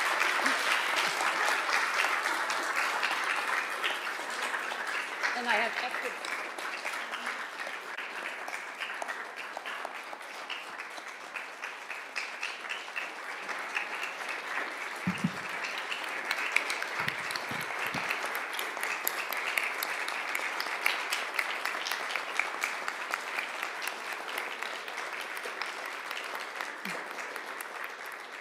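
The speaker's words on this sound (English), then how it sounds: "Can everyone give her a round of applause?" An audience claps at a town council meeting, a long, steady round of many hands that fills the room at moderate loudness, with a short spoken remark and a few low thumps partway through.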